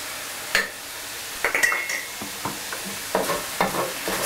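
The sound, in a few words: chili bean sauce being stirred and fried in oil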